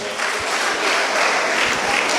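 Steady applause from an audience at a children's talent contest in the Gambia, a dense wash of clapping that holds evenly for a couple of seconds without any talk over it.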